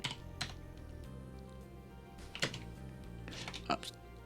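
Keys clatter on a computer keyboard at a desk running the OfficeVision/VM mainframe office system, with scattered irregular keystrokes and a few louder clicks over a steady hum, while a voice talks intermittently.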